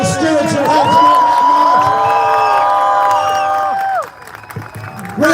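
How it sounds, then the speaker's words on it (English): A large crowd at an outdoor march rally in Manchester breaks into loud sustained applause with cheers and whoops, swelling for several seconds before dropping away to a quieter murmur. "let's have a big round of applause for all the stewards who helped us on"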